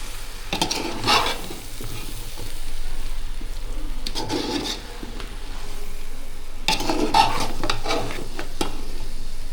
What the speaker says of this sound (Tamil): காளானை ஆட் பண்ணிட்டு நல்லா கலக்குங்க.